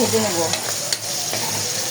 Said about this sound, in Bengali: এখন তেলে পরিমাণ মতো পেঁয়াজ দিয়ে দেওয়া হলো। পেঁয়াজগুলোকে ভালো করে